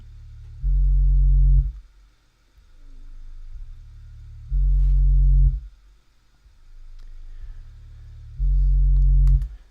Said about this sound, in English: So it's got a very warm bass tone to it